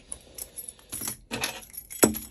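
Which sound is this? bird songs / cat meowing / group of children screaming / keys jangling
keys jangling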